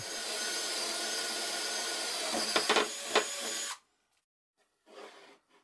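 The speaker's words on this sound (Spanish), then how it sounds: "Voy a aprovechar esta ranura de mi banco de trabajo para taladrar esta pieza de madera dura de lado a lado" A drill press with a wood bit bores through a piece of hardwood set in a workbench slot, a loud steady whine with a few sharp bursts near the end, then silence and a brief fainter spin-down.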